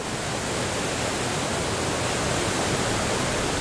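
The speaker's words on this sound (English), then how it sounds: "The waterfall is not only an evocative element of the Italian landscape" Waterfall on the River Tiber in Italy, a dense, unbroken roar of falling water, loud and constant with no other sounds.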